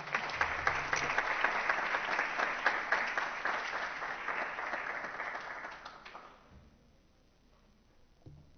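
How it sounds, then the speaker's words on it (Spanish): An audience at a technology conference applauds a speaker with loud, continuous clapping for about six seconds, which then tapers off into a quiet room with a few faint knocks. "a quien lo recibimos con fuertes palmas"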